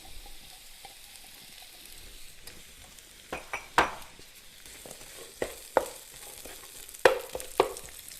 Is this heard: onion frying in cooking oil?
yes